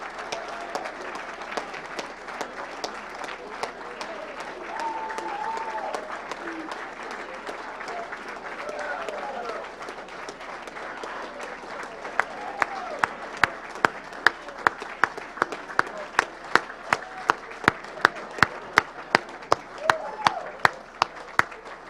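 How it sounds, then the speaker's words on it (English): Long crowd applause with cheering for the Iota Triton brothers from the University of Massachusetts Dartmouth at a live event, a steady roar of clapping that shifts into sharp, rhythmic unison claps toward the end. "everyone give a big round of applause to Iota Triton, the brothers from the University of Massachusetts at Dartmouth"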